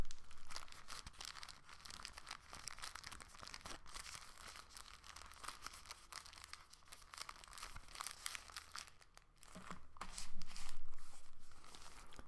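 A plastic bag crinkles and rustles steadily as it is folded and tucked, a close, continuous crackling with sharper crunches and a louder burst of handling near the end.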